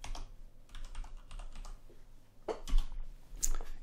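Fingers type on a computer keyboard in a quick, close burst of uneven key clicks, followed by a single firmer tap.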